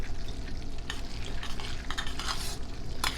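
Butter gets stirred into hot Kraft Dinner macaroni in a pot, with wet squelching and scraping strokes of the spoon along with a low sizzle, close up, each stroke marked by brief clinks.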